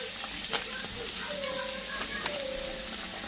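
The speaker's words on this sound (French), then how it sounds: "Je vais mettre mes oignons." Onions go into hot oil in a pan and sizzle steadily, a soft frying hiss with a few clinks and faint tonal squeaks, with a voice speaking lightly underneath.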